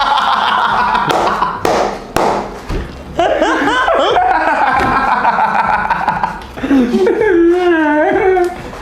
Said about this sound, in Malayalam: വീട്ടിലെ പട്ടിയ